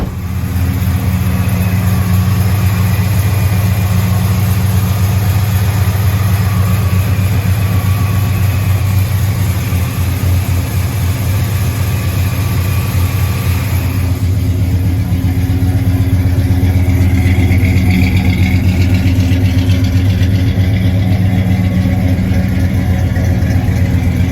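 The engine of a 1979 Dodge D100 pickup truck runs steadily with a deep, even rumble, idling close by with slight rises in revs, no talking over it.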